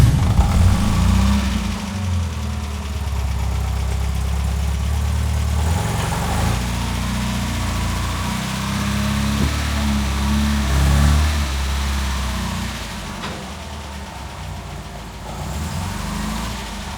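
An MGB's engine idles and revs low and close by as the car creeps forward onto a ramp, with a few faint knocks and thumps, no voices.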